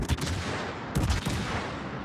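A burst of ship guns fires in a World of Warships naval battle, two heavy booming salvos about a second apart, loud and close with rumbling decay.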